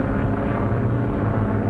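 A propeller airplane engine drones steadily in flight in a 1941 comedy film, a loud, continuous low-pitched hum with no breaks and no voices over it.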